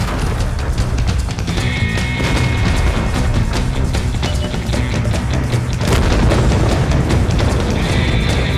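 Tank combat in World of Tanks, with a light tank struck by a shot and then destroyed by fire: a continuous loud wash of booms, crashes and rumbling battle noise with sharp impacts throughout and no talk.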